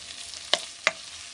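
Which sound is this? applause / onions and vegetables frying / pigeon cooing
onions and vegetables frying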